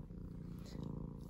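A pet lap cat purring close by, a soft steady rumbling purr that continues throughout at low volume with no other sounds.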